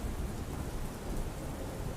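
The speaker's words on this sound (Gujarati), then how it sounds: "વલસાડ જિલ્લામાં ભારે વરસાદ ખાબક્યો છે" Heavy monsoon rain pours down on the Namdha road in Vapi, Valsad district, a dense, steady roar of falling water with a low rumble beneath, constant throughout with no voices.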